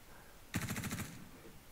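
Star Citizen gameplay: a single burst of automatic gunfire, about eight rapid shots in half a second, fairly faint against a quiet background.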